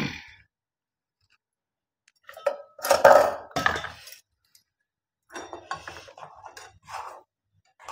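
Biscuit powder and makhana are stirred in a pan for a healthy barfi roll. A spoon clinks and scrapes against the metal in a few short, close bursts separated by quiet gaps, with no talking.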